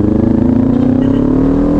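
A Kawasaki Ninja 400 sport motorcycle engine hums steadily at cruising speed while riding, with a low rumbling drone and slowly rising pitch, close and continuous.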